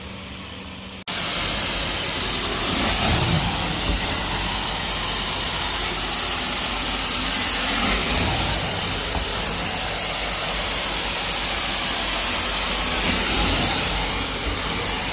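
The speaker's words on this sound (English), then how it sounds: "you're gonna have a lot of steam coming out the water hose versus a tiny stream" Hot water hose of a carpet cleaning machine blasts steam in a loud, steady broadband hiss that starts abruptly after a second of quiet and holds for the rest of the clip.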